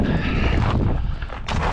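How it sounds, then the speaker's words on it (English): Three pack horses descend slowly down a steep, treacherous mountain trail above a lake, their hooves clopping on rough ground amid a steady close wash of movement noise, with a brief whinny-like rise near the end. "I want all three horses to come down the elevation."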